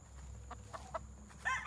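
A gold-feathered stag fighting rooster from Bulacan, a one-time winner, gives a few soft, short clucks that build to a louder burst of clucking at the end, heard close over a low hum with no talking.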